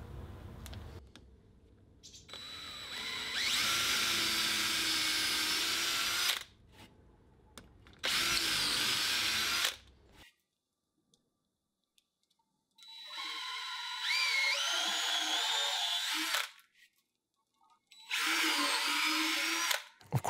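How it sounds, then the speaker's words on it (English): A power drill whirs in four separate bursts of several seconds each, pre-drilling screw holes in plywood, the motor pitch rising and dipping as it bores, with short quiet pauses between. "Then I pre-drilled the holes for the screws."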